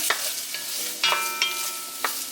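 Shrimp cook in a hot pan for piri piri shrimp, with a steady close sizzle broken by a few sharp utensil taps and scrapes at irregular intervals.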